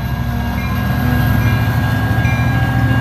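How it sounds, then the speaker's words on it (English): An Amtrak passenger train, number 719, rolls past the N St railroad crossing in Bakersfield, California, a loud, close, steady roar of wheels on rails with no voices. "Okay, I thought it was a freight train, but it's the Amtrak."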